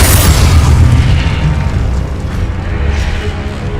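Loud booming blast of the Confringo explosion spell in the Hogwarts Legacy video game, a heavy burst with a deep rumbling tail that lingers and slowly fades.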